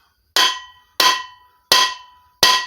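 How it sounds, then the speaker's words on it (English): Ball peen hammer tapping the metal exhaust of a Kohler KT17 engine, four sharp, ringing metallic strikes spaced roughly evenly, close and loud, each with a short resonant decay into silence. "I'm going to get out my ball peen hammer, give it a few"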